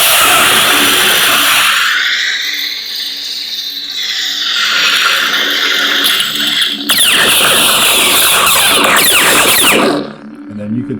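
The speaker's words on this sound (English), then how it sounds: "Blade lockup is holding it down and hitting the Saber." Proffie neopixel lightsaber gives a loud, crackling, sizzling blade lockup effect with a sweeping hum that shifts and surges, holding continuously for about ten seconds before cutting off.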